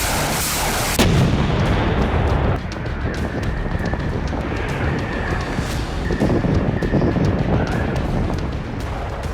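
A missile strike on a Russian weapons depot: one big close blast, then a rapid run of sharp cracks and pops from secondary detonations over wind rumble, no voices.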